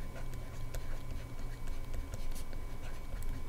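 Pen or pencil scratching across a page while a seventh-grade math word problem is worked out, a run of light, close ticking strokes over a low steady room hum, with no talking.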